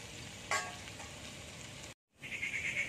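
Onion and meat sizzling in a pan while cooking chicken fried rice, a steady crackling fry with a brief clatter early on and a momentary gap before the sizzle resumes.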